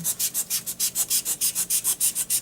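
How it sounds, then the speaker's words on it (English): A knife held at an angle saws back and forth through terrain-building material in quick, even strokes, about five per second, close and fairly loud. "set my knife at an angle. I'm going to use this sawing action"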